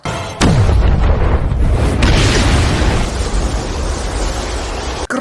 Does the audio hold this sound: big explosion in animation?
yes